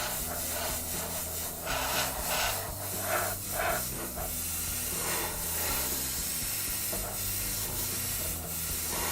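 An airbrush sprays paint onto an RC car body in a steady, soft hiss of air that holds through the whole stretch at low level, with faint swells and a low background hum beneath.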